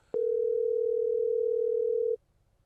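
A telephone line gives one loud, steady, continuous tone for about two seconds during a call that goes unanswered, then cuts off sharply into near silence.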